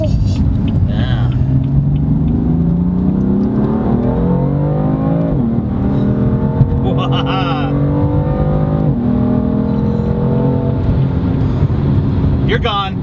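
A BMW M4 in sport mode accelerates hard onto a highway, its engine rising in pitch through successive gears with distinct upshifts. The engine roar is loud and steady throughout.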